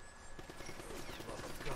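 Enemy gunfire in the Uncharted Drake's Fortune video game, a rapid burst of repeated shots under steady game noise.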